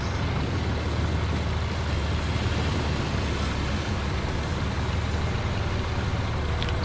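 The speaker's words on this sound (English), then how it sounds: "Is this lorry going to move? With his Lamborghini engine." A heavy truck engine in Bus Simulator 18 drones steadily and loudly throughout, with a low constant rumble and road noise, no voices.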